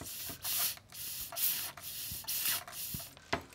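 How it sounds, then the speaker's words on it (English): A desoldering tool clears solder from the holes of a Pentium 3 Socket 370 motherboard, giving short repeated hissing, spraying bursts in a quick uneven rhythm, faint and close, with no voices. "This thing's funny, just sprays molten solder everywhere."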